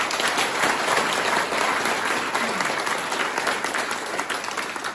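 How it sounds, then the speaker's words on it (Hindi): A crowd applauds steadily at a motivational training session, a dense, loud wash of clapping hands that holds evenly for several seconds with no talking over it. "इसके लिए ताली बजाओ एक बार।"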